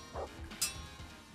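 A dog in the game Kingdom Come gives a short whimper and a sharp yip, quiet and brief against a low ambient background.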